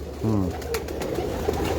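Pigeons cooing on a rooftop, including a female pigeon: a near, low rolling coo rises over a steady background hum, followed by fainter soft calls and light rustles.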